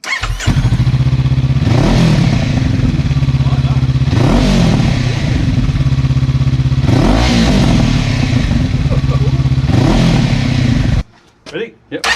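Honda CB500X with a GRmoto budget exhaust, baffles removed, runs loud and close with a deep, rough tone and four sharp throttle blips at regular intervals before it suddenly cuts off.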